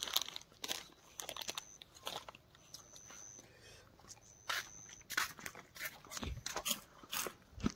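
Someone eats crunchy Kurkure snacks outdoors in Keonjhar, with a series of sharp close bites and crunches spread across the clip, some packet crinkling, and quiet background hiss between the crunches.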